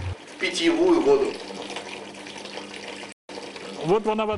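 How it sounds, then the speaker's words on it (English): Liquid pouring into a container, a gushing, filling sound with rising pitch, briefly interrupted, then starting again. "Now we pour this horrible mix into the container."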